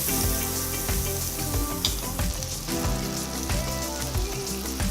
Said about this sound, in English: So to the hot skillet, I'm taking 2 tablespoons of butter.